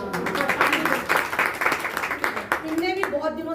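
An audience at a women's federation knowledge seminar claps for a prize distribution, a lively run of applause that fades after a few seconds as voices take over near the end.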